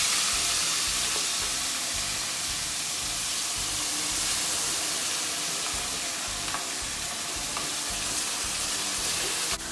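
Onions, tomatoes and masala frying in butter for dal makhani give a steady, close sizzle and crackle that runs unbroken throughout, with faint stirring underneath.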